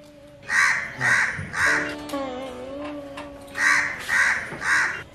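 A crow gives three harsh caws in steady rhythm, a short pause filled by a softer tonal call, then three more loud caws, close and clear against quiet.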